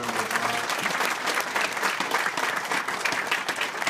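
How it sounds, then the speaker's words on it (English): Warm audience applause fills a meeting room at a Kansas City, Kansas NAACP gathering, a dense, steady clapping that holds at an even level for the full four seconds with no talk over it. "Give her a round of applause."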